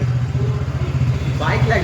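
A motorbike engine runs steadily close by, holding a low, even throb for the whole stretch while a person talks over it.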